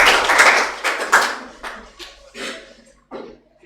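Classroom applause from students, a short burst of close clapping that breaks into a few scattered, fading claps and taps.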